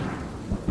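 Thunderstorm over the Brisbane cricket ground at Woolloongabba: a steady low rumble of thunder and rain with a couple of brief heavier swells, fairly faint and with no voices.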